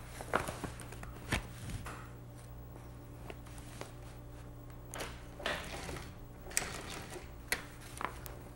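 Sewing machine top-stitching the overlapped seam of a convertible top, a low steady mechanical hum with intermittent rattling bursts of stitching and handling clicks, fairly quiet and close.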